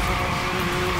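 Car sliding sideways through a clutch-kick drift in Forza Horizon 3's Hot Wheels expansion, a loud continuous engine drone with steady tire squeal running the whole moment, no voices over it.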